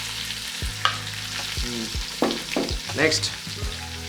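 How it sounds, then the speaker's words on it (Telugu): Three medium-sized onions frying and being stirred in a pan for a raw mango fish curry, a steady sizzle broken by scraping and clanking stirs, with tonal squeaks and a brief spoken word in between. "వాటిని గోల్డెన్ కలర్ వచ్చేదాకా వేయించు"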